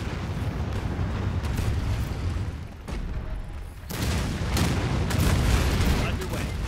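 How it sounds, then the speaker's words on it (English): Artillery fire in the strategy game Anno 2205: repeated heavy booms and rumbling blasts in rolling bursts, loud and dense, with a voice briefly heard between shots. "That's how we do artillery."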